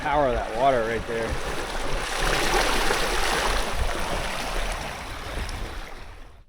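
River water flows strongly near a cliffside cave, a loud sustained rushing roar, while someone speaks briefly at the start.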